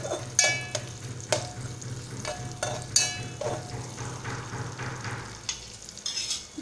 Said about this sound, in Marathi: तर आपला कांदा आणि लसूण छान भाजले गेले आहेत तेलात